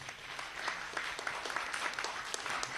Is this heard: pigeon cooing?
no